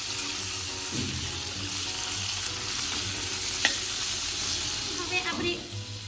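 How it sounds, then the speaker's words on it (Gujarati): A spoon stirring a sweet potato mixture in a hot pan, with a steady sizzle and several scraping strokes against the metal, close and clear, and no talk. "અને હવે આપણે આ રીતે ચમચાની મદદથી બધું બરાબર મિક્સ કરી લઈશું"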